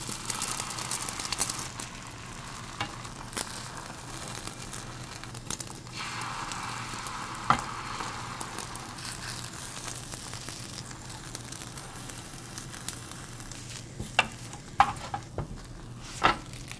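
Eggs frying in a pan and being rolled into an egg roll, a soft steady sizzle with scraping and light tapping from the utensil, and sharper clicks near the end.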